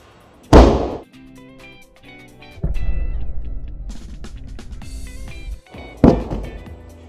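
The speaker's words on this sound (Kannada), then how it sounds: "ಹಿಂದಿನ ಬಾರಿ ನಮ್ಮ ಸನ್ರೈಸ್ ಟ್ಯಾಂಕನ್ನು ನಾವು ಅಲ್ಲಿಂದ ಹಾಕಿದ್ವಿ. ಈ ಸಲ ಎಕ್ಸ್ಟ್ರೀಮು ನಮ್ಮ ಫ್ಯಾಕ್ಟ್ರಿ ಮೇಲ್ಗಡೆಯಿಂದ ಹಾಕ್ತಾ ಇದ್ದೀವಿ." A plastic water tank dropped from a factory roof hits the ground with a heavy hollow thud, followed by rumbling and rattling, then a second hard thump near the end; outdoors and loud.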